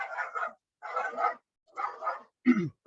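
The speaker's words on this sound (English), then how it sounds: "my dog's going off" A dog barks in short bursts indoors, four quick barks spaced with pauses, moderately near and fairly faint.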